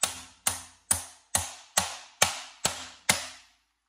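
A soft rubber mallet strikes sheet metal laid over a hammer form, eight evenly spaced sharp blows about half a second apart, each ringing briefly and decaying, close and alone.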